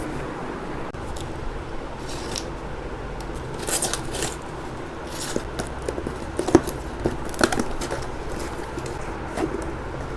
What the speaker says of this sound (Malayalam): അപ്പോൾ നമുക്കത് അൺബോക്സ് ചെയ്യാം.